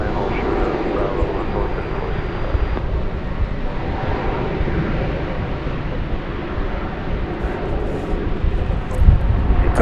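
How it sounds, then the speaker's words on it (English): An Airbus A319 arriving from Houston Intercontinental touches down at DFW Airport, heard as a steady broad jet roar with wind buffeting at the microphone, fairly loud and constant. "Coming in from Houston Intercontinental, flight 1799 and Airbus A319, just touching down there."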